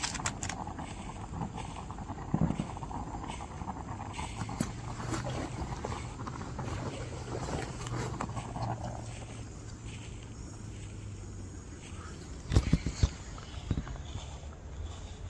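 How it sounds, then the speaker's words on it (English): Footsteps crunch close by at a campsite at night, irregular steps that grow more prominent over a low background hum, with a couple of sharper thuds near the end. "he heard the footsteps again, but this time they were louder and closer"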